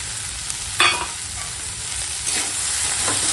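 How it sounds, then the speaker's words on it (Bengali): Banana flower fried in oil with ginger-cumin paste crackles in a steady sizzle, broken by a couple of sharp scraping stirs of the spatula, close and moderately loud. "দিয়ে একসঙ্গে আদা জিরে বাটাটার সঙ্গে একটু কষিয়ে নেব।"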